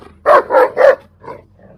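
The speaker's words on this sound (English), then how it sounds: "For those of you who think this dog is quiet, Jax" A dog barking close and loud, three quick barks in a row followed by two softer, shorter yips trailing off.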